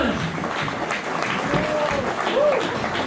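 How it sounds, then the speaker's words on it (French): A crowd applauds a choir at a Fête de la Musique performance, a continuous bed of clapping with voices and some cheering mixed in throughout. "peut les applaudir bien fort s'il vous plaît"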